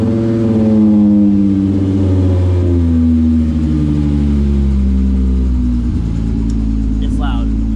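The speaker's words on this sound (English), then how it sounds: "So the cold starts in this garage are spicy." A car engine rumbles loudly and steadily on a cold start in a garage, its low harmonic tones rising and falling as it revs close by.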